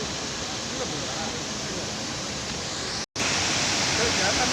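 A waterfall in Munnar, Kerala, pours with a loud, constant rushing hiss that fills the whole clip, broken only by a split-second dropout, with voices faintly mixed into the roar.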